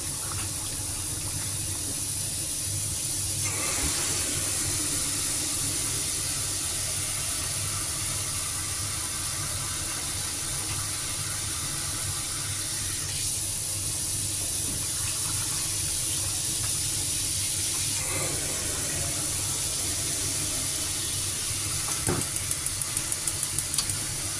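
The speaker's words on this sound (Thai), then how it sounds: "ใส่น้ำเข้าไปค่อนหม้อจ้ะ" Running water pours steadily into a soup pot for a long stretch, filling it most of the way, a constant hissing rush close by with small shifts in tone.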